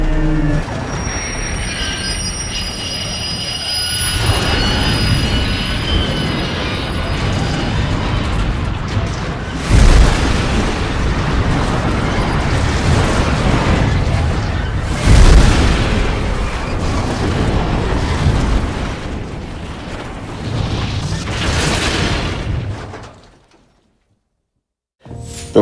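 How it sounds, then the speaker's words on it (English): Amtrak's Lakeshore Limited derailing at 79 miles an hour near Batavia, New York, in 1994: a loud, continuous rumble of rolling cars and wheels with heavy thuds near ten and fifteen seconds, fading out abruptly toward the end. "The Lakeshore Limited derailed at 79 miles an hour."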